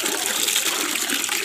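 Water is poured steadily to mix molasses with salt and livestock feed, a continuous close gushing splash with no pauses throughout.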